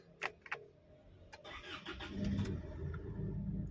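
An Isuzu MU-X diesel SUV starts up: a few clicks, then a brief starter crank catches into a steady, close, low diesel idle with no one talking.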